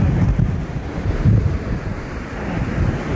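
Strong wind blowing across an open hillside, a loud, steady rushing roar that buffets the microphone throughout, with gusts swelling and easing and no voices.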